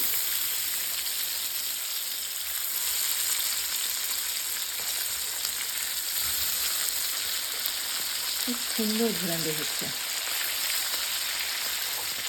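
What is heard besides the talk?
hilsa fish frying in a pan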